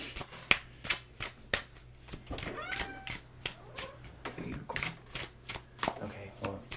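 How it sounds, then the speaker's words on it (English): Tarot deck being shuffled by hand in a steady series of crisp, close riffling bursts that repeat roughly every half second, with faint background sounds and a low hum underneath. "I'm going to pull some tarot now."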